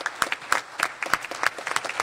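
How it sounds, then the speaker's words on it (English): Scattered applause from a small town hall audience in Passaic County, New Jersey, with a few distinct claps standing out near the listener over a light background patter, lasting about two seconds. "I want you to give yourselves a round of applause"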